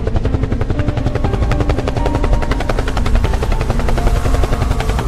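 A cartoon helicopter flies nearby, its rotor chopping in a fast, loud, steady pulse with a deep thrumming undertone throughout, and no one speaks.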